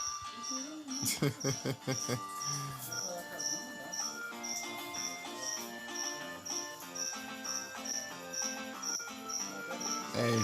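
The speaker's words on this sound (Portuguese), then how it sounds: "Meu Deus, tá saindo uns grilos tudo na live." Crickets chirp in a steady, evenly spaced high pulse that runs the whole length, layered over busy video game music and sound effects.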